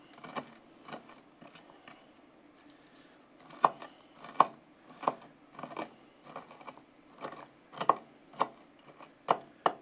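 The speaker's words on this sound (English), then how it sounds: "just chop it up like this. We just want bacon pieces" A knife chops cooked bacon into crumbly pieces on a board, soft irregular taps and thuds repeating close by, fairly quiet with faint room noise between cuts.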